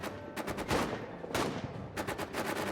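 Bursts of gunfire in a World War I trench video game, with several close, loud volleys of rapid shots separated by short pauses and no talking over them.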